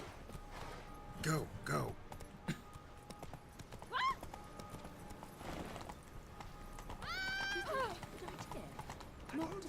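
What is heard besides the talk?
horse galloping in The Witcher 3: Wild Hunt video game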